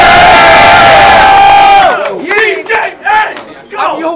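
A crowd at a rap battle cheers and shouts loudly, first as a dense roar, then breaking into scattered whoops and yells nearby.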